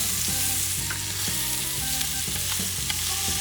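Scallops searing in a hot pan right after being flipped, a steady loud sizzle of frying with clinking stirring and pan contact sounds throughout, no talking.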